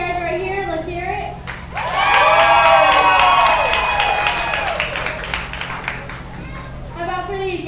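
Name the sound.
crowd clapping and cheering to vote for costume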